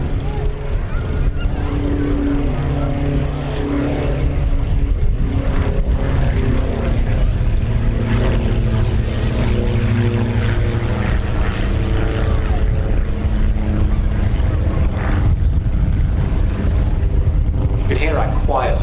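A propeller aircraft flies at the Old Buckenham airshow, its engine a steady, loud drone throughout while a commentator talks over it.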